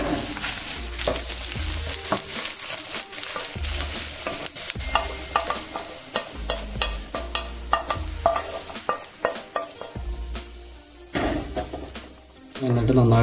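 Ingredients for Arabic chicken shorba stirred and frying in a pan: a steady sizzle broken by repeated scraping and clanking strokes of a utensil, close and fairly loud, with a voice talking in places.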